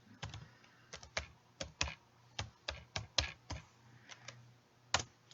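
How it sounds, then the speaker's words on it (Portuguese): Steady typing on a computer keyboard, with a quick irregular run of crisp, close keystroke clicks in a quiet room and no voices. "eu estou digitando agora"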